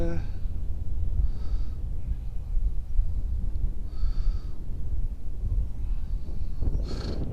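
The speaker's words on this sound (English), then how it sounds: "See that wind catch it? A bit gusty now" Gusty wind buffets an open outdoor setting, a steady low rumble with several swells as gusts hit, loud and close on the microphone, with occasional breathy vocal sounds between gusts.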